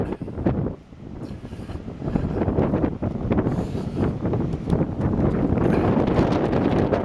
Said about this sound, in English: Very windy up here at the moment.